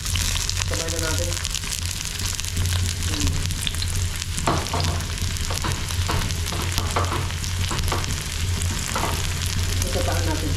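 Garlic, onion and ginger frying together in oil in a pan, a loud continuous sizzle with a low hum underneath and occasional stirring clatters, close up.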